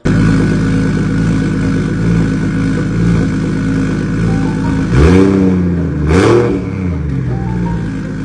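A Nissan Skyline R33 engine idles roughly after warming up, with a low, uneven, boat-like drone, briefly revving twice near the end before settling back into its lumpy rumble.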